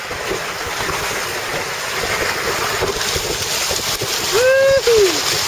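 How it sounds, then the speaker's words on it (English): A sailing kayak rigged as a trimaran rushes fast through open water, with steady wind buffeting and the wash of water along the hull, and a brief excited whoop near the end. "look at that water just speed by"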